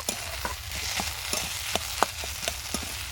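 Spiced potato stuffing fries in a pan with a steady sizzle while a spatula stirs it, knocking against the pan in a rough repeating rhythm of sharp taps, close and moderately loud.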